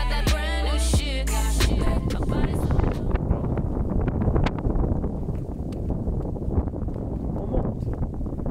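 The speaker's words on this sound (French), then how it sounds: "Ah, ce vent." Steady wind buffeting a microphone on a mountain pass, a loud continuous rumble and roar lasting throughout, with some brief sharp sounds near the start.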